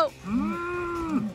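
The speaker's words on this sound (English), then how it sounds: "Cows are walking through the water and they're in their paddock." Cattle moo in a paddock: one long, loud, drawn-out moo up close, holding steady before tailing off, with no talking over it.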